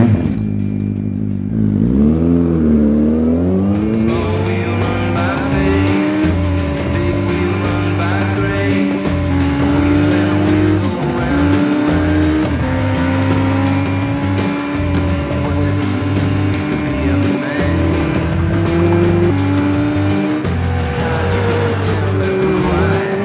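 A 2015 Yamaha XJR1300 Racer motorcycle engine cranks into life near the start, then idles and revs loudly and steadily for over twenty seconds, a close, continuous rumble with rising and falling throttle blips.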